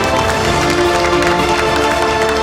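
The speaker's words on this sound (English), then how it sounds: "So a huge round of applause for Mrs. Sharma" Audience at a housekeeping awards ceremony in Mumbai breaks into loud, sustained applause with some cheering, dense and continuous, with background music underneath.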